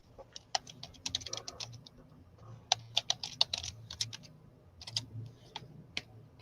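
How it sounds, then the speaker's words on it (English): Someone types on a computer keyboard, with close, irregular clusters of crisp key clicks and brief pauses, heard alone with no talking. "I'm typing it in now"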